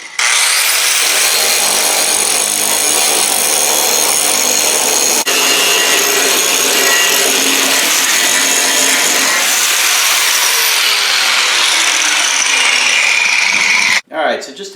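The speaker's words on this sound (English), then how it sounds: "See how this Bauer grinder does." A Bauer angle grinder from Harbor Freight runs steadily at full speed, a loud continuous whine with grinding texture throughout, then cuts off abruptly near the end.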